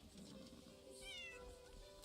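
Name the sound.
cat meowing in the video game Crimson Desert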